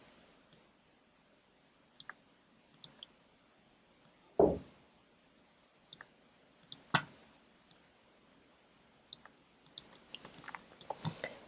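Computer mouse clicks while making a selection with the pen tool in Photoshop, sparse sharp single and double clicks spaced a second or so apart, close and quiet, with a cluster of rapid clicks at the end.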